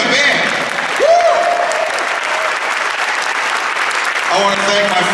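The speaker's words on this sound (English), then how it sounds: "Another round of applause. And the band." Concert crowd in a university hall applauding and cheering for the band at a tribute show, loud sustained clapping with a whoop and a voice over it.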